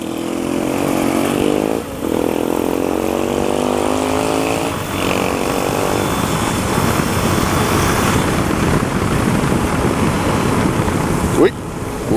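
Honda Tornado motard motorcycle engine with a VAX exhaust revs and rides by, rising and falling engine notes over rough wind and road noise, loud and close, with a brief voice partway through.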